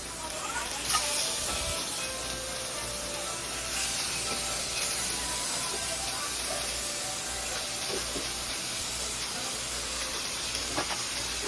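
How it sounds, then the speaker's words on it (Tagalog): Octopus pieces hit a hot pan already cooking carrots, giving a steady, loud sizzling hiss that holds evenly throughout, with faint stirring scrapes underneath. "Tapos lalagyan na natin yung octopus."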